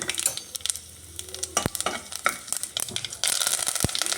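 Steady crackling sizzle of mustard seeds, urad dal and cumin popping in hot oil with asafoetida, with sharp sputters and clinks of a spoon stirring the pan, growing louder toward the end.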